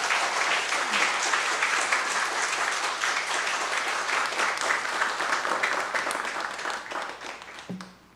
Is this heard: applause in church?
yes